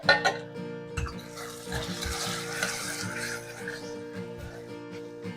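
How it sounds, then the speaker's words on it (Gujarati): Tomatoes and spices sizzle in oil inside a pressure cooker while a spoon stirs, giving soft scraping and clinks over a steady close frying hiss. "પછી એકવાર તેને હલાવી લઈએ."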